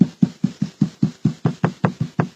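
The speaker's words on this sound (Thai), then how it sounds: "มันจะดังเสียงแน่นตึบตึบตึบแน่นกว่าข้างล่างที่มันดังกิ๊กกิ๊ก" Knocking on the front console of a Honda Jazz gives about a dozen evenly spaced, dull, firm thuds in quick succession, close and clear, with no talking.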